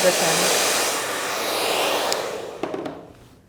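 A hair dryer roars steadily with a broad airy whoosh, then drops off and quiets near the end amid faint handling clicks.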